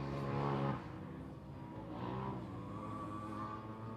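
A race car engine roars past on a track in a main event, a steady loud mechanical drone with a louder surge at the start, then sustained revving that fades slightly, with no voices.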